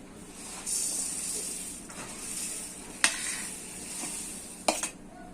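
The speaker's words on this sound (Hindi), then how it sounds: "अब हमें एक कढ़ाई गरम रख देनी है और सारे मुरमुरे हमें इसमें डाल देने हैं।" Puffed rice (murmura) is dry-roasted in a hot kadhai over a medium flame, giving a soft, continuous hiss and rustle with a few sharp scraping clinks from stirring.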